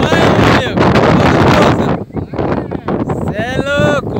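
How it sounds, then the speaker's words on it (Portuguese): Strong wind buffets the microphone in loud, roaring gusts while cyclists talk over it outdoors at Pedreira da Capelinha in Bom Repouso, Minas Gerais, Brazil. "Tá ventando demais"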